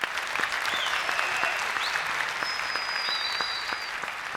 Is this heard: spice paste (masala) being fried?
no